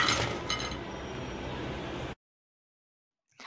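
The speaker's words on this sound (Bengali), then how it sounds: "মটরিগুলো প্লেটে রাখার সময়ের আওয়াজ শুনিয়ে দিচ্ছি যে কতটা ক্রিস্পি" Crispy deep-fried moong dal mathri are set down onto a plate, making brittle clinks and crunchy rattling up close for about two seconds, then silence.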